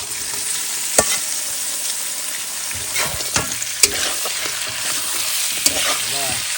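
Fish going into a pan of fried spice masala, followed by a continuous frying sizzle and scraping stirs of a spoon, close and steady throughout.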